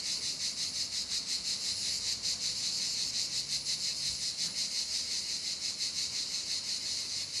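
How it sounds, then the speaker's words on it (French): Loud, continuous high-pitched cicada song pulsing in a fast rhythm, filling the air with no voices. "Je vous laisse écouter les cigales."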